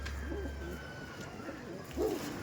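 Imported Teddy golden pigeons coo softly nearby, three rounded burbling calls spaced about a second apart, the last one slightly louder, over faint background hum.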